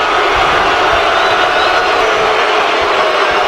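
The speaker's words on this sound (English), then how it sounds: "The crowd is letting Basher know exactly what they think of him" A loud arena crowd in a created-wrestler (CAW) wrestling video game roars and jeers steadily, a dense, unbroken wall of voices with no pauses and no individual speech.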